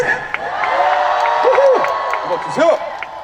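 A festival concert crowd cheers and shouts loudly, a sustained roar with whoops, while performers' voices ring out over the noise.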